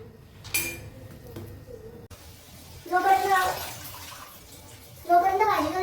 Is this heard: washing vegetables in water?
yes